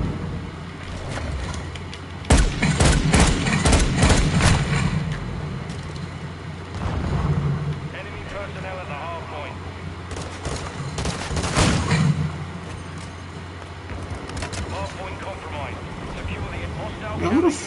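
Gunfire in Call of Duty Modern Warfare 2, bursts of rapid shots and heavy blasts that come and go over a rumbling game soundscape, with a voice talking throughout.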